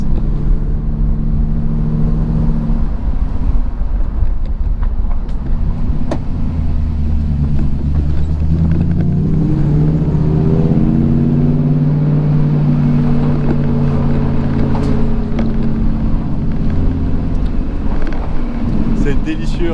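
A Morgan Plus 8 drives through a small stone village, its engine giving a steady, loud low rumble with wind buffeting the microphone, while someone speaks over it almost continuously.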